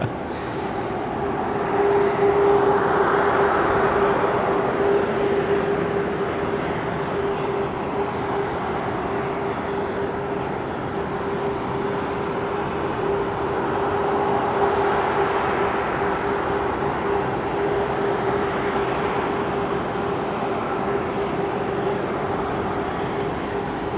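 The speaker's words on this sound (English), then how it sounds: "we've got Qantas 7221 just about to come over the fence" A Qantas passenger jet on approach to land at Sydney Airport at night gives a sustained broadband roar with a steady whine, swelling and easing gently over the whole stretch, with no talk.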